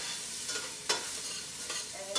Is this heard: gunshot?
no